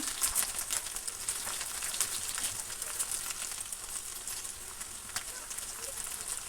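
Steady crackling sizzle of chopped onions frying in hot oil, a dense hiss with scattered pops that runs throughout.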